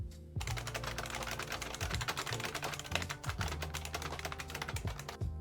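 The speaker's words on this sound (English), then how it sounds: "Classic keyboard sound." Rapid, clacky typing on an IBM Model M mechanical keyboard, keys struck loudly and continuously at close range with a few heavier strokes.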